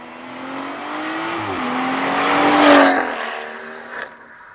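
A turbocharged BMW M240i xDrive B58 engine with a catless downpipe revs up nearby, its tone climbing and swelling to a loud peak before easing off, with a short pop at the end.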